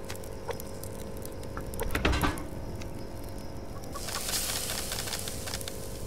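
Chickens cluck in the survival game Subsistence, soft repeated clucks and pattering steps over a low steady hum, with a brief louder rustle midway and hissier noise toward the end.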